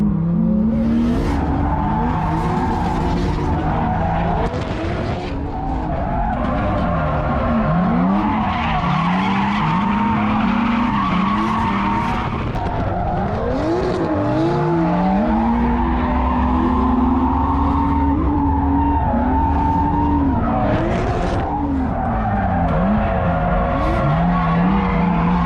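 Drifting car heard from the passenger seat, tires squealing and skidding in long sweeping slides while the engine revs and swells beneath, loud and close throughout with little pause.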